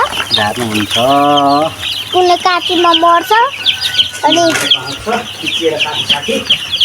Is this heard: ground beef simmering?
no